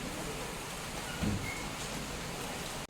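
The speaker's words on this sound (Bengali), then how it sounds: "এরপর সয়া চাঁদগুলো যত তাড়াতাড়ি ঠান্ডা হয়ে যায় যেন উপর থেকে ঠান্ডা জল দিয়ে দেবো" Cold water poured over boiled soya chunks, a steady rushing splash of running water close by, ending with a brief clunk.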